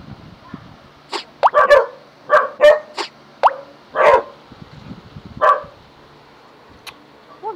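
A dog barks in a series of short, irregular yaps at moderate distance, with quiet pauses between bursts and a faint background hum.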